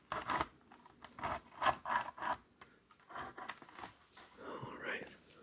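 Close, intermittent scraping and clicking of a flathead screwdriver working on a VHS tape cassette, irregular short bursts of plastic friction mixed with faint breathy sounds.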